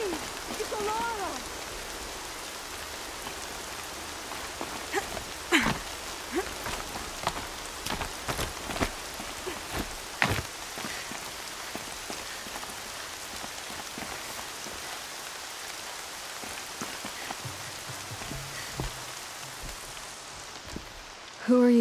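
Steady rain falls in the Horizon Zero Dawn video game, a continuous wash of patter with scattered sharper drops and brief clicks, loud and close throughout with faint voices occasionally beneath it.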